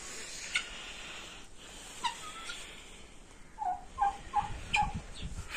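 Black chickens, including a rooster, give a few short clucks and chirps close by, scattered over a faint, steady background hiss.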